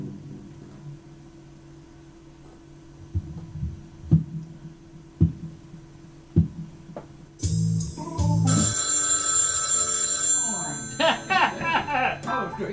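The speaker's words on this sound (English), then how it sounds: "We got the phone ringing blues here, baby." A telephone bell rings in bursts within a blues music recording, following soft low thumps, then bright trilling rings layered over the band, loud and close.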